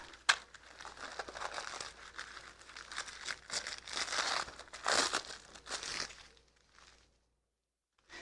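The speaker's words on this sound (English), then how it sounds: "it's just like this sheet of moss that's backed with this paper" Crinkling, rustling sheet of paper-backed moss with a web backing, handled up close for several seconds in steady crackly bursts, stopping abruptly near the end.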